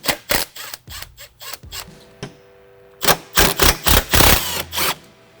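Tools click and ratchet on screws while the factory airbox comes off a widebody Charger, a series of short sharp mechanical bursts in quick clusters with brief pauses between.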